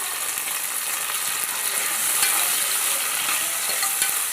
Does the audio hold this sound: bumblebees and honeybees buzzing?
no